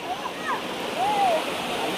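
The Shevre river, swollen in the monsoon, rushes with a steady broadband wash of moving water. Voices are present, and a brief whistle-like tone rises over the flow.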